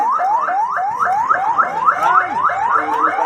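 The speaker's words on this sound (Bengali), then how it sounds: "অ্যাম্বুলেন্স যাচ্ছে" An ambulance siren wails in rapid, repeating rising sweeps, loud and close, with faint traffic noise underneath.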